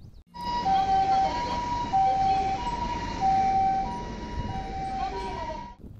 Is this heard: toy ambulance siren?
yes